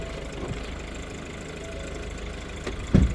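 A car engine idles after being started with the push-button, a low, steady mechanical hum close by, ending in a short heavy thump.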